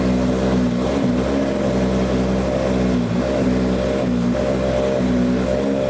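A Subaru BRZ drift car engine runs steadily at a fixed idle, a loud, even low rumble with slight fluctuations and no voices.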